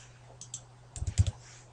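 Someone types a short command on a computer keyboard, a few soft scattered clicks followed by a quick cluster of keystrokes, quiet and close.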